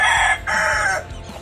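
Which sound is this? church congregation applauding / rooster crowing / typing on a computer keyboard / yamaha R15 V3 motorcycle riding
rooster crowing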